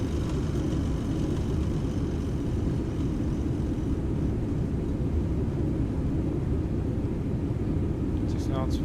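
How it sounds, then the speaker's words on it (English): A Toliss A321 airliner in X-Plane 12 roars with reverse thrust while landing, a loud, steady broadband engine rumble filling the whole stretch, with a voice speaking over it. "Reverse is coming in."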